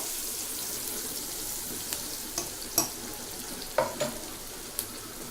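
Onions and curry leaves sautéing in a pan while lentil-ball kuzhambu is cooked, a quiet steady sizzle with a few soft clinks and scrapes of stirring scattered through it.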